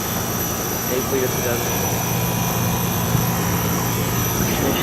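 A 2-ton commercial central air conditioner from 2008, thought to have a Freon leak, runs with a constant loud fan whoosh and mechanical hum, steady throughout while someone talks over it.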